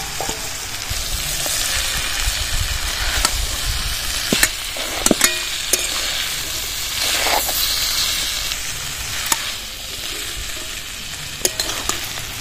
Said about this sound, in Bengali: সবজিগুলো ভেজে নিয়েছি, এবার চাউমিনগুলো দিয়ে দেবো।